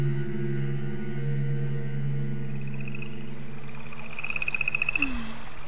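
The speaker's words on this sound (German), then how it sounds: "Oh, ein Frosch" Frog croaking inside the video game Whispering Willows, heard as one clear croak near the end of the clip over steady tonal game music and ambience, with no speech.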